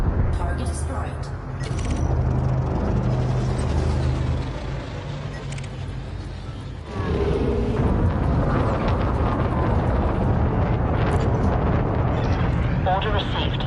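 A ship explodes in the space game Elite Dangerous with a loud, rumbling roar that dips briefly midway and then surges again, with a voice speaking over it.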